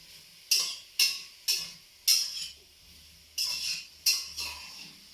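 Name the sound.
stirring jambalaya in a saucepan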